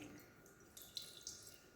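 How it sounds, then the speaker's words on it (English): Liquid trickles and drips as it drains from a glass separation funnel in a lab pigment-separation setup, a faint, quiet pouring with a few small splashy drips, no talk. "Now I'm going to remove this phase that is found at the bottom by opening separation funnel again."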